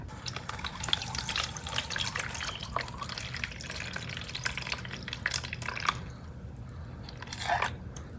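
Soaked potash (kaun) water being filtered, liquid dripping and trickling steadily through the strainer for several seconds, fairly close, with faint handling noises and no talk.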